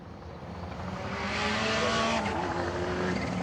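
A rally car on a gravel stage of the Oregon Trail Rally at Maryhill, its engine roar swelling and growing louder as it approaches and passes, steady and fairly close with no talk.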